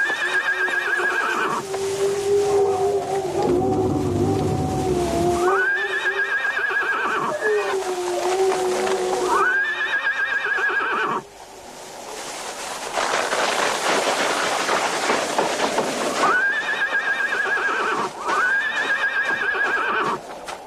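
Whinnying of a horse in a cartoon, the animal standing with a priest on a mountain peak, sounds in repeated loud, ringing cries, while hooves clip-clop and a steady background bed runs underneath throughout.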